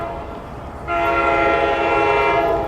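A passing train roars in loud and close after a brief quieter start, a sustained rumble with strong tonal horn-like harmonics filling the rest of the moment, alone without speech.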